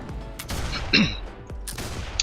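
Scattered gunshots from Warhammer Online: Return of Reckoning, a few sharp cracks spaced out over a low ambient game background, with no talking.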